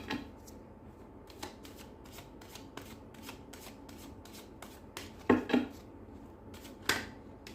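Tarot cards being shuffled by hand, a run of quick riffling, flicking bursts close up, with a few sharper snaps near the end.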